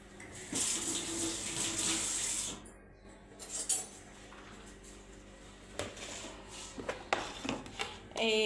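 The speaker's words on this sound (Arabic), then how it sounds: "استنى اشطف ايدي" A kitchen tap runs steadily for a few seconds while hands are rinsed under it, then shuts off, followed by scattered clinks of dishes and utensils nearby.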